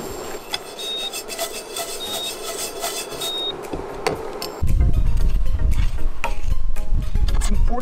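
Almonds and pumpkin seeds being stirred in a pan over low heat for homemade granola, a steady scraping and rubbing that grows louder and rougher partway through, with no talking.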